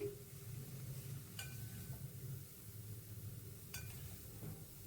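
Soybean chunks fry in a pan while being stirred, a soft low sizzle broken by two sharp metallic clinks of a utensil against the pan, fairly quiet overall.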